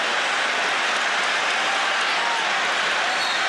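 A capacity crowd roars in a basketball arena as Tennessee rallies against Vanderbilt, a dense, steady wash of cheering and clapping that fills the whole stretch with no break.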